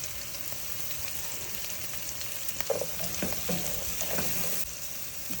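Onion, beans and carrot fry in a pan with a steady soft sizzle throughout, with occasional faint stirring scrapes and clicks and no talk.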